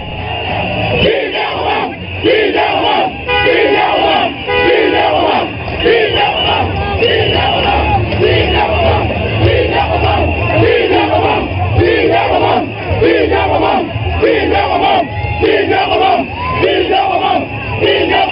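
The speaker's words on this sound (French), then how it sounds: "c'est une foule en liesse qui attendait le président Macky Sall" A jubilant crowd in the city of Thiès, Senegal cheers and shouts while awaiting President Macky Sall. It is a dense, continuous roar of many voices, loud and steady throughout.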